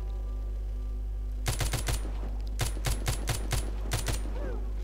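Rifle fire in The Walking Zombie 2 comes in sharp rapid bursts: a run of four shots, a pause, then two quick volleys of several shots each, loud and close over a constant low hum.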